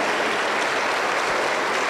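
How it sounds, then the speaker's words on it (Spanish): A church congregation applauds, producing dense, sustained clapping that stays steady and fairly loud throughout. "Aplauso para el Señor Jesús."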